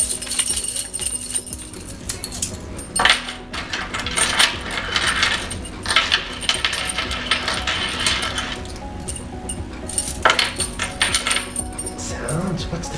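A metal key is handled up close and clangs in bursts of bright jangling clinks and clanks, with short pauses between them.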